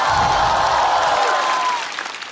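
Cheering and applause from a stand-up comedy show audience, a full, steady roar of clapping and voices that tapers off toward the end while a faint tone glides through it.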